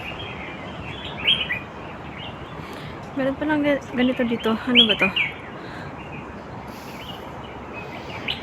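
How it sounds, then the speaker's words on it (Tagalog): Several birds chirp and call in quick bursts against a steady outdoor hiss in Mawan Forest, with a person speaking briefly in between. "Ang daming ibon."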